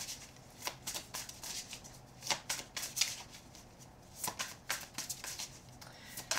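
Tarot cards are gathered up and shuffled back into the deck, a close series of soft papery riffles and slaps in irregular bursts, with no talking.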